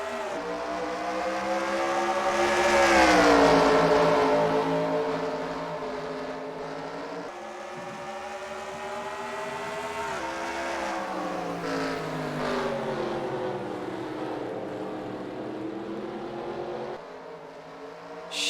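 Race cars in a Group 2 XASCAR round at Vancouver accelerate hard out of corner four at the green flag, a dense roar of revving engines swelling loud early on, then a sustained pack drone with rising and falling pitch.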